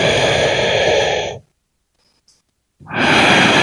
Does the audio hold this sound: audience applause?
no